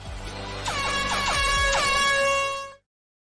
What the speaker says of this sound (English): Let's do one of those air horns, because that is the grand finale.